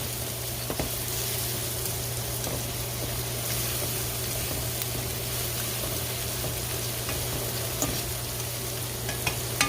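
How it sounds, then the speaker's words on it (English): Callaloo and saltfish sauté in oil in a pot, Jamaican style, with a steady, even sizzle and faint crackles over a low constant hum, no voices. "And then we're just gonna let this saute for a moment."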